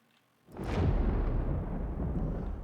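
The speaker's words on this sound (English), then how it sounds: "that explosion sound effect probably could be better" A rocket projectile impact explosion effect in Unreal Engine 5 bursts in suddenly after a brief hush, then swells into a sustained, rumbling blast that holds steady at moderate loudness, with no talk over it.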